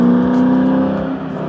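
A Factory 5 GTM's engine runs close and loud with a deep, steady drone much like a Corvette, holding a level tone for about a second and a half.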